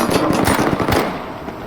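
Rapid automatic gunfire in the tactical shooter Ready or Not, a loud burst of closely spaced shots that fades to a quieter tail after about a second.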